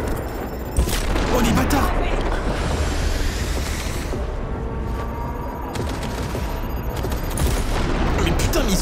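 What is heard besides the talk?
gunfire and explosions in the video game Cyberpunk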